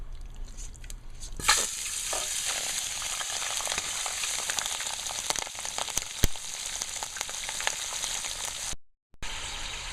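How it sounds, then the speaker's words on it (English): Duck meat drops into hot oil and fries with a loud, continuous sizzle and crackle that starts abruptly and stays dense and close, with occasional sharp pops and a brief cutout near the end. "So the oil is hot, and I'm gonna be throwing in the meat to fry down"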